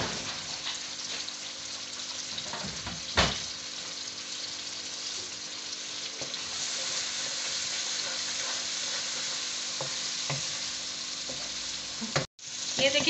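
Spices and ginger powder fry for masoor dal in a pan, giving a steady, fairly close sizzle with soft stirring scrapes, one brief knock and a short break near the end.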